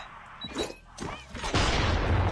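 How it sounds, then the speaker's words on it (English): A predator missile explodes in Call of Duty Mobile, building from rumbling thuds into a loud, sustained blast and debris roar that fills the last second. "Hostile predator missile inbound."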